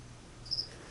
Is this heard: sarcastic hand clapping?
no